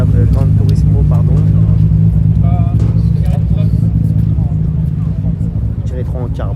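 A Maserati GranTurismo at a supercar gathering rumbles with a deep steady engine drone, heard close under continuous chatter from people nearby.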